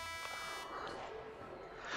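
A period-ending buzzer at an ice hockey game between the Miami Tropics and Tijuana Piranhas sounds as a steady, loud electronic tone under crowd noise, starting at the beginning and then giving way to broad arena roar.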